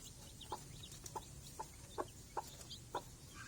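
Black hen's chicks peeping softly, a handful of short, evenly spaced chirps a little apart from each other over faint background noise.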